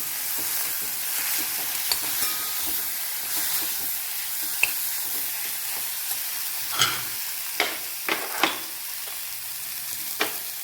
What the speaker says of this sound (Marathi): आपण हे हरभरे शेंगदाणा टाकून त्याला मस्तपैकी परतून घेऊ